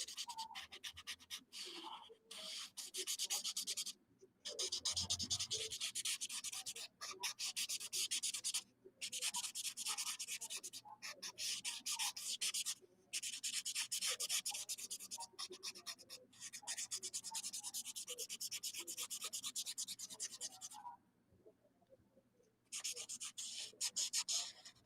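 A chisel-tip marker scratches steadily across paper while coloring, with long rubbing strokes in close, quiet bursts broken by short pauses.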